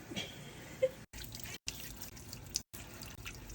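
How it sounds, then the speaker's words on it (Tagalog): Water trickles and drips steadily with small splashes and clinks as eggs are washed under a running tap, close and fairly quiet. "Second step ko, hugasan ko yung mga itlog."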